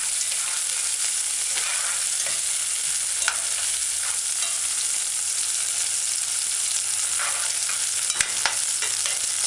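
Scallions and onions sauté in a pan for a cho-cho and okra stew, giving a steady, fairly loud hiss of frying that runs the whole time, with a few faint stirring scrapes and no voices.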